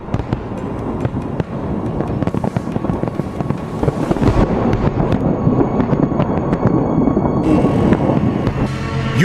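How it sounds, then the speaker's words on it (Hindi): A fireworks display in Moscow, with a dense stream of loud pops, bangs and crackling bursts firing in quick succession, growing busier toward the end. "पुतिन ने मॉस्को में बाकायदा आतिशबाजी का इंतजाम किया हुआ था"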